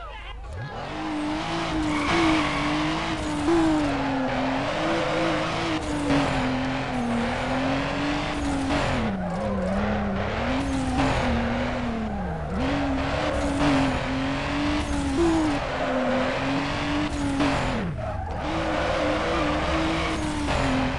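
Race cars in the video game Need for Speed Underground: loud, continuous engine whine that rises and falls with gear changes, with repeated tire squeals and skids through the corners.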